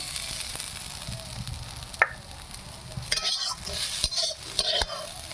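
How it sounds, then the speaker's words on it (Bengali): Cauliflower sizzles steadily in a pan, with a few clinks and scrapes of a utensil stirring and lifting the pieces, close and moderately loud with no talking. "কপিটা ভাজা হয়ে গেছে তুলে নিলাম"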